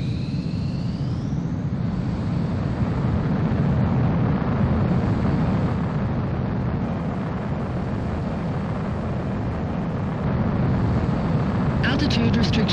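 A fighter jet taking off in Ace Combat 4, a loud continuous roar of engines and rushing air building and holding steady, with a radio voice speaking over it.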